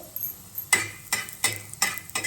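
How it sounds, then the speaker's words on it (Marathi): Onion and chilies roast in a pan for a masala base while a spoon scrapes through them in about five evenly spaced strokes, each a brief gritty swish over a soft background sizzle. "आता मसाला भाजून घेऊ कांदा आता मिरच्या टाकते"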